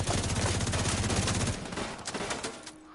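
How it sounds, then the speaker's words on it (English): Rapid automatic gunfire from The Division 2 video game, a dense sustained burst that is loud and close for the first half, then thins into scattered shots and softer impacts. "I try to shoot gas cans"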